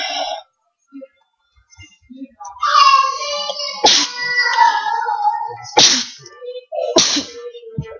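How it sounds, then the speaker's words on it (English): A person sneezing several times in quick succession, loud, close and sharp, with short vocal sounds between the sneezes. "I apologize for the sneezing."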